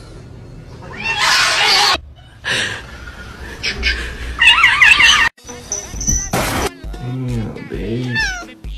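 Several cats meowing in short, high calls scattered across a busy stretch, some loud and close, with people talking and a brief gasp mixed in.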